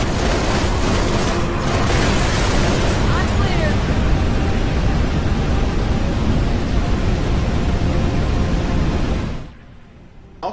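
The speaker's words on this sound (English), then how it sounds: "everything is just destroying and then blowing up behind you" Explosions in the video game Halo Reach, a dense, continuous rumble of blasts and debris that fills about nine seconds at high volume, then drops off suddenly to near quiet with one small pop at the end.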